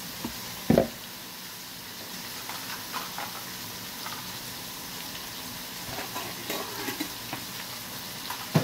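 Meat sautéing in a pan after its liquid has cooked down, a low steady sizzle with occasional knocks and scrapes as it is stirred.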